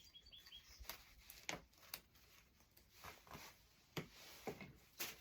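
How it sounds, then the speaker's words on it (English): Faint bird chirps and tweets drift in from outdoors, scattered short calls over a quiet background with a few soft knocks. "Oh, the birds are happy this morning."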